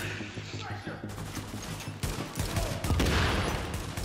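Gunfire in The Division, a dense rattling fusillade of several weapons firing together, steady and loud at first and building in intensity toward the end, with no speech over it.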